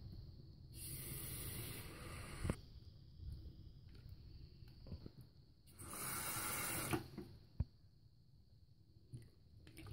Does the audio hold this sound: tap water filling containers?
yes